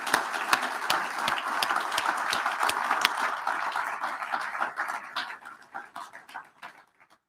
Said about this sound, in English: So please give a round of applause to Tony and the team.